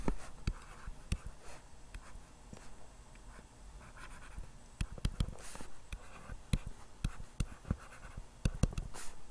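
Pen or marker drawing chemistry resonance structures on a surface: irregular scratchy strokes and taps, close and dry, with scattered sharper ticks and no talking.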